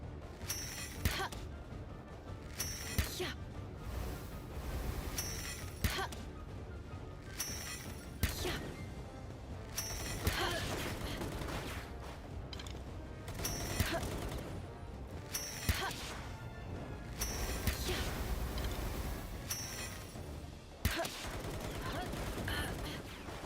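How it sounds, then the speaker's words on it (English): Enemy gunfire in the video game Palworld: rapid, relentless bursts of shots and impacts repeating in waves, loud and continuous, with brief pauses between volleys. "I like how he still can't hit me even though he's firing a billion bullets."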